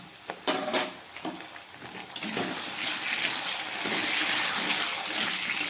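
A few sharp clatters, then a steady, building sizzle of potatoes frying in a hot pan, with no talking.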